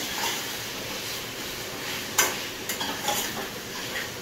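Spices, red chilli powder and coriander-cumin powder, being stirred into hot oil in a pan while cooking kadhi and khichdi, giving a steady soft sizzle with faint scraping strokes of the spoon, close and alone, no talking.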